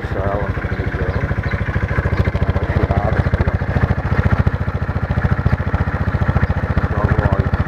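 A motorcycle engine idles steadily right after being started, a loud close chugging rhythm running the whole time with someone talking over it.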